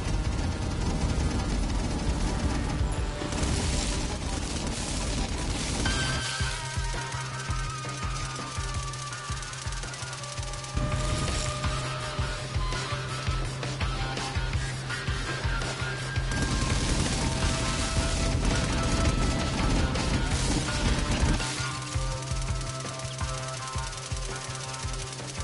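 Shooting turrets in the video game inFAMOUS fire rapid bursts of automatic gunfire, repeated in long stretches of dense rattling shots, loud and near, with no talking.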